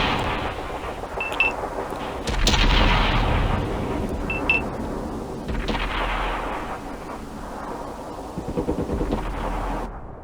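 Tank cannon fire in a video game featuring a Pershing tank: three heavy booming shots spaced a few seconds apart, each with a rumbling tail, over steady battle ambience.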